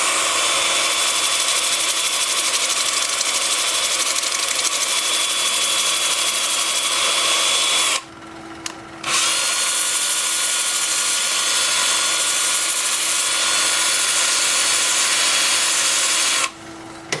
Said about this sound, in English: with the lathe spinning in reverse at about 350 RPM